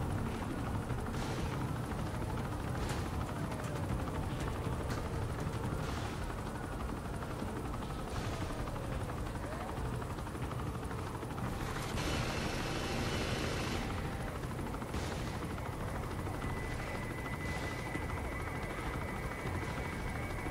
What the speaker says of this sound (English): This helicopter is dumb slow.